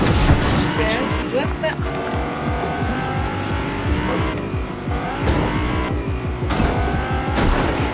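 Game car driving around in Fortnite, its engine droning steadily with tyre squeals and skids breaking through, while players talk over it throughout.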